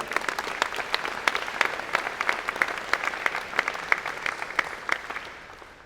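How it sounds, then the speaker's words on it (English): A college convocation audience at an engineering and computer science ceremony applauds a record freshman class: many hands clapping loudly and densely, individual sharp claps popping out, before the applause slowly thins and fades at the end. "give that a big round of applause"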